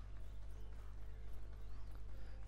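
Horse hooves clip-clop in the online game Paladins, a quick steady patter of light hoofbeats over a constant low hum, faint and continuous.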